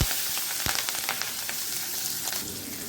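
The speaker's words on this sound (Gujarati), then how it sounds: "અને થોડીક વાર માટે સાતળી લઈશું જેમ આપણે મરચાં તળીએ છીએ તેવી રીતે એને તળી લેવાના છે થોડાક તેલમાં" Green chillies frying in hot oil with asafoetida give a steady, close sizzle with scattered sharp pops and crackles, and no voices.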